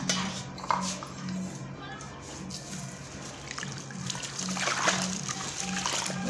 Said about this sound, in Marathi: मस्तपैकी याच्यामध्ये चीक धुवून घ्यायचा